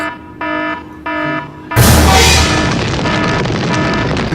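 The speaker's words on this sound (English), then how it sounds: "The fire alarm system has been activated." Fire alarm blares in two sharp pulsed bursts indoors, then a loud boom-like crash swells into a sustained noisy roar with the alarm tone persisting faintly beneath.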